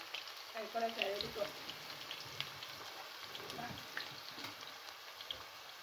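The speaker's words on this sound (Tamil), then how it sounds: "ரெண்டுக்கும் சேர்த்து தான் வதக்குறேன்." Onions and green chillies sautéing in a pan, a steady close sizzle and crackle with brief stirring bursts, running under quiet background voices.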